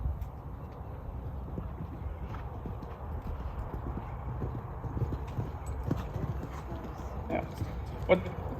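Horse hooves clip-clop in a steady rhythm at a moderate distance during show jumping, with quiet background noise and a soft voice or two.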